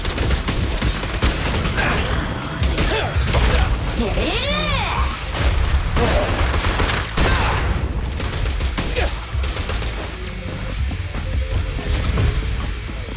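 Gunfire in the Zenless Zone Zero video game: rapid bursts of shots mixed with mechanical clicks and impacts amid busy game effects, with a character's voice calling out over the action.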